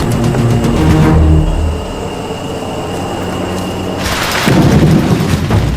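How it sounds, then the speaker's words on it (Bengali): Thunder rolls through monsoon rain in a Panama jungle: a long low rumble swells and fades over steady rain hiss, then a second, sharper crack-and-roll breaks in near the end, loud and close. "আর এই বাজ পড়ায় অবস্থা আরও খারাপ।"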